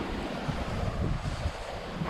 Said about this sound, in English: It's been breezy all day.